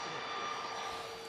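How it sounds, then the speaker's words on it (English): A Cessna Citation business jet departs Manchester Airport with a steady, broad jet roar and a thin whine on top, loud and continuous throughout. "this Cessna Citation is off to Logrono"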